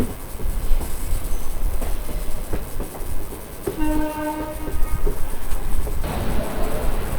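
A train rolling into Vijayawada Junction railway station gives a continuous rumble and clatter, with a sustained horn blast sounding midway before the rolling noise carries on.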